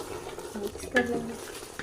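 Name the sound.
stirring potato egg curry with masala in pan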